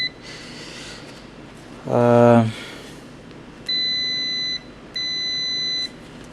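A multimeter set to continuity on a magnetic contactor for an automatic changeover gives two clear, steady electronic beeps, each about a second long, after a brief low buzz; close and distinct, with no talking during the tones.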